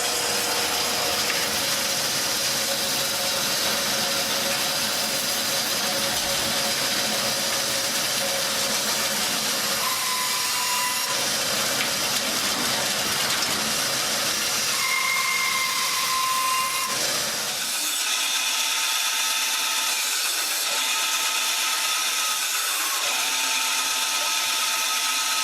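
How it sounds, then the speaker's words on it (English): A loud electric chainsaw runs steadily with a high whine, its pitch shifting as it bites through a wood slab, then settling into a cleaner hum near the end. "Electric chainsaws work great for this."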